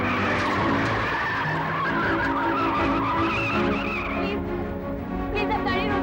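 A speeding car skids with squealing tires, the engine roaring loudly and continuously up close as the car refuses to stop, with faint voices underneath.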